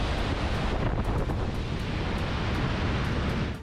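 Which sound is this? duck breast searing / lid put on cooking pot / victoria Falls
victoria Falls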